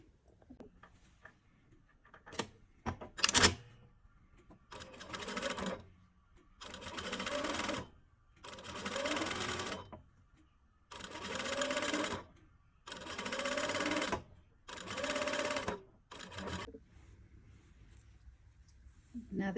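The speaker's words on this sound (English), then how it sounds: "I'm going to stitch about 5 millimeters from that folded edge" A sewing machine stitches a narrow seam about 5 millimeters from the folded edge of fabric strips for dress button loops, running in six steady bursts of a couple of seconds each, close and loud, with short pauses between them.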